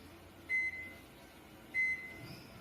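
Two short electronic beeps from a newer microwave oven being set for 30 seconds, spaced about a second apart over a low steady hum, fairly close.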